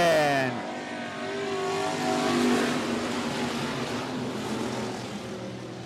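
Race cars roar past at a speedway under green flag racing, a loud engine whine that sweeps down in pitch as the cars go by, followed by a sustained engine drone.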